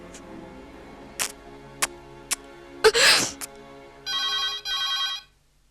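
Telephone ringing, two long electronic rings near the end after a few sharp ticks and a brief noisy burst, fairly close in a quiet room.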